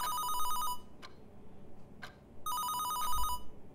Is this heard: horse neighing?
no